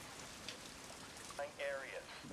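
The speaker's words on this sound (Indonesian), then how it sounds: "Sampai pada akhirnya hujan badai pun semakin deras" Heavy storm rain falls as a faint, steady hiss, with brief voice-like bits breaking through it.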